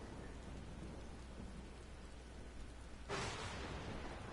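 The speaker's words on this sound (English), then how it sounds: "It was a dark and stormy night." Steady heavy rain hisses through a thunderstorm in the video game Final Fantasy XIV, then a loud, close thunder crack bursts in near the end and rumbles on over the downpour.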